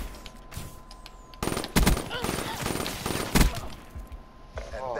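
Rapid gunfire in a video game search-and-destroy gunfight, loud bursts and single shots crackling close over a busy background, with players talking over the action.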